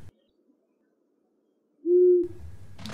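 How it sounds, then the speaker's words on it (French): Owl hooting at night on a mountain pass in an audio drama, a single drawn-out hoot rising out of near silence and followed by a low muffled rumble. "Un hibou crie."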